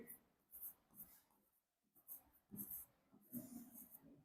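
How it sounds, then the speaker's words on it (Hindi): Pen scratching out a corrected answer by hand on paper, in short bursts of faint scratchy strokes with brief pauses between them, close and quiet. "तो यहां हम लिखेंगे"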